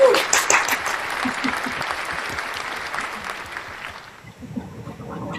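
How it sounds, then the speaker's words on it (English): Recorded applause sound effect played from a toy at a women's event, a dense burst of clapping and cheering that fades out toward the end, followed by faint talk. "I don't know where my clapping stuff is at. Where's my applause?"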